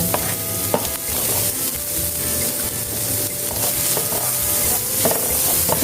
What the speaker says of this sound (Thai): ก็ใส่พริกตามลงไปจ้ะ ผัดให้หอมเหมือนกัน